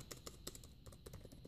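Typing on the keyboard dock of an Asus ZenPad S 8.0 tablet, a quick, irregular run of soft, close key clicks heard alone against a quiet background.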